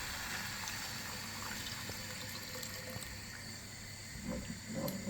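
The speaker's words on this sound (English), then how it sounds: "I'm gonna add some water" Water is poured into a pan of sauce made with hot chili ketchup and honey, a faint steady trickle and splash continuing for several seconds at moderate distance without talk.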